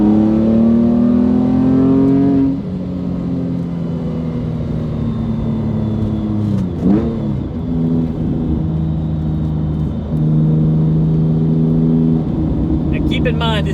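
A 2005 Porsche Boxster with a 4.3L R43 engine revs hard during a test drive, its pitch climbing, dropping and climbing again across several gear pulls, loud and close from inside the car, with someone talking over it.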